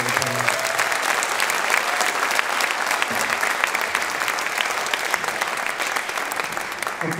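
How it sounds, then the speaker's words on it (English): An audience at a jazz band concert claps continuously and energetically for the two bands. The dense, even applause fills the whole stretch without a break. "Can we give these two bands here that we just heard a nice round of applause?"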